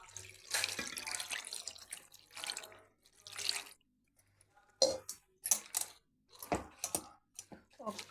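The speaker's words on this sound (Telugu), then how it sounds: "వాటర్ వేస్తున్నాను." Water pours into a cooking pot in several uneven bursts of splashing, separated by short quiet gaps, heard close up in a home kitchen.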